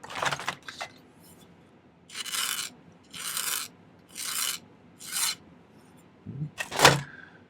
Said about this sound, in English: Let's file one of these ends flat.